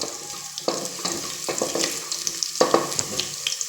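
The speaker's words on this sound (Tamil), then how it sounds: "சீரகம் மிளகு இதை எல்லாம் போட்டு நல்லா வறுக்கணும்" Cumin and black pepper roast in a pan for ghee pongal, with a steady close sizzle and repeated scraping stirs throughout.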